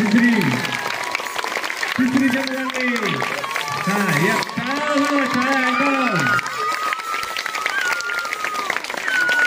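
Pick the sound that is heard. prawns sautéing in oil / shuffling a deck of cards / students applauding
students applauding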